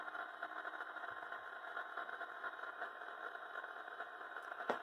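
SD40-2 locomotive model idling through a Tsunami2 sugar cube sound decoder, a steady mid-pitched diesel drone with slight knocking texture, faint and continuous, with no voices.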